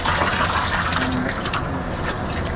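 Filtered malt wort pours out of a three-barrel brewhouse system at a San Diego craft brewery, a loud continuous splashing gush of liquid that stays steady and close throughout, with no talk over it.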